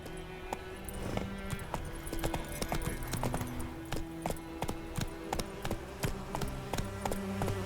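Hoofbeats from Roach, the horse in The Witcher 3, pound in a steady galloping clip-clop, close and moderately loud over low game ambience.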